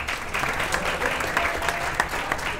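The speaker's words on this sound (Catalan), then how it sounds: "Molt bé, Òscar, aplaudiu-lo." Steady audience applause at a Catalan spelling-bee contest on local TV, dense clapping filling the room at an even level, with a faint murmur of voices underneath.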